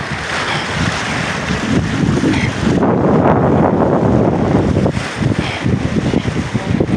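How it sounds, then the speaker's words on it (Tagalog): Strong wind gusts across the lakeshore at Calamba, Laguna, a loud, roaring rush buffeting the microphone throughout, with lapping water beneath. "Nasa tabing dagat po kami, ang hangin."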